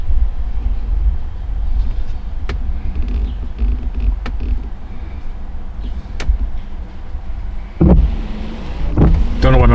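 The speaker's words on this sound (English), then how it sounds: "Don't know why my window wipers are cutting on right now." A C5 Corvette's windshield wipers switch on inside the car: a few sharp isolated clicks, then a whirring mechanical sweep that repeats near the end, close and fairly loud over low cabin rumble.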